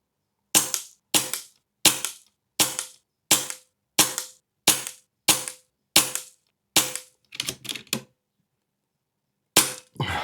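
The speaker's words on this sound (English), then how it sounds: "because I want to shoot this further distances, I was thinking heavier pellets maybe" An HFT500 air rifle firing pellets outdoors: ten sharp, evenly spaced cracks, then a quick rattling cluster of smaller clicks, a pause, and one more shot at the end, all close and loud.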